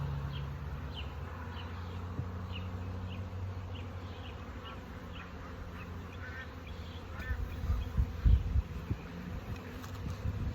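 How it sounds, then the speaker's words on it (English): Honey bees hum at a swarmed hive in a steady, moderately loud drone with buzzing close by, while duller thumps from handling a heavy hive box come in near the end. "We got some good cluster of bees here."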